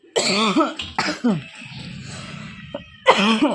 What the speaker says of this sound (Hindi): मुझे तो खांसी इतनी ज़्यादा हो रही है।